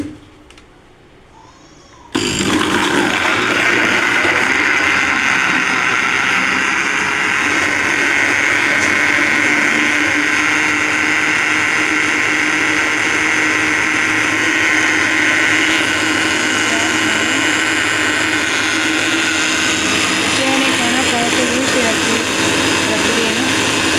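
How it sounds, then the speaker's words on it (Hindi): An electric grinder whirs steadily on chopped onions, starting abruptly after a brief quiet moment and holding a loud, continuous motor drone for over twenty seconds. "ये देखिए प्याज जो है ना वो काट के रख लिए इसके अंदर, इसको ग्राइंड करने लगे"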